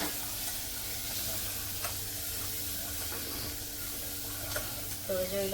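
Whole garam masala spices sautéing in hot oil, giving a continuous close sizzle and hiss with faint stirring scrapes throughout, no talking.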